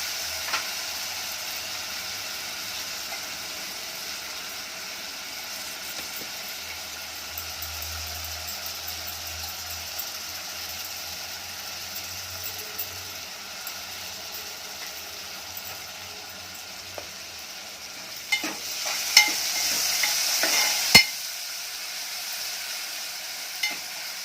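Tomatoes and asafoetida sizzle in hot tempering oil for a mung dal varan, a steady close frying hiss throughout, with stirring scrapes and clatter growing busier near the end.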